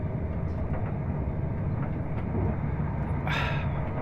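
Inside a moving passenger train bound for Inverness, a steady low rumble and rolling noise fills the cabin. A brief hiss swells near the end, and no voices are heard.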